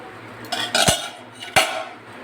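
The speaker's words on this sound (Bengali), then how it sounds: "দিয়ে আমি ঢাকনাটা বন্ধ করলাম।" Two sharp metallic clanks ring out as a lid is set down and closed on a cooking pot of boiled arhar dal, against a faint kitchen background. No one speaks.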